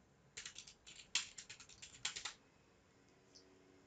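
Short bursts of typing on a computer keyboard to enter a login name, crisp close clicks in quick clusters, then quiet.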